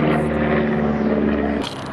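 A camera drone flies nearby, close to someone riding a waveboard, and gives off a steady, loud whirring hum with strong tonal bands that lasts the whole stretch and shifts slightly near the end.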